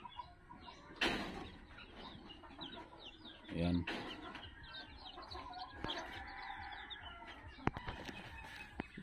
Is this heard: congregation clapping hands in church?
no